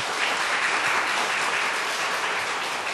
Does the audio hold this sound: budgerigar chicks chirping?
no